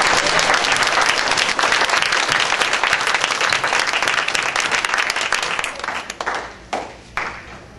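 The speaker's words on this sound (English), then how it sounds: "let's have a round of applause" An audience at a Falls Church elementary school event breaks into loud, dense applause that holds steady, then thins and fades out into a few scattered claps.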